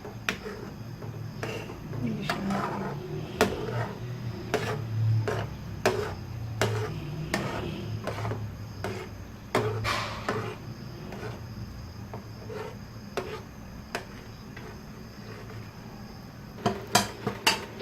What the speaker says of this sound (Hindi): अच्छी तरीके से इसकी भुनाई करनी है, इसी तरीके से, जिस तरीके से मैं चम्मच हिला रही हूँ